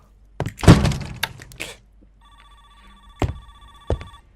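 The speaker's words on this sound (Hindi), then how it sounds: "फोन बज रहा, किसका बज रहा भाई?" A telephone rings with a bright electronic tone, heard after a few sharp knocks and clatters, with quiet gaps in between.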